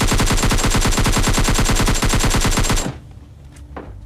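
Rapid automatic gunfire sprays without pause in a battle royale video game, a loud, dense burst of evenly spaced shots lasting nearly three seconds before cutting off to near silence with faint stray sounds.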